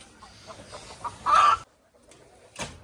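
Chickens and roosters clucking in a coop at a farm, with a few short calls and one louder squawk burst midway, then a brief cluck near the end.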